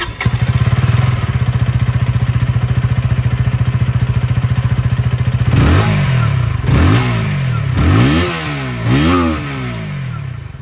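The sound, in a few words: KTM Duke 160 motorcycle exhaust sound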